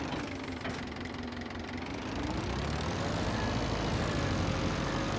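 An 85 horsepower engine fitted to a Valpadana 4655 tractor in a farming game rumbles steadily at a mid pitch, close and constant, swelling slightly louder partway through.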